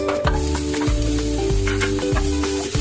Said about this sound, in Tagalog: Ayan, magigisa na po tayo ng onion.